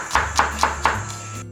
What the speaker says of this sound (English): Mincing garlic is probably the least favorite chopping of mine.